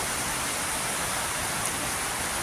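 Steady rain falling outdoors on a late afternoon in Bataan, a dense continuous hiss of fine drops that stays even and moderately loud throughout, with no voices.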